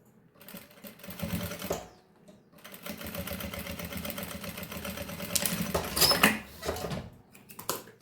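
A sewing machine stitching a seam through fabric for a baby's pacifier-holder pouch, running in close bursts of rapid mechanical whirring with short pauses between runs.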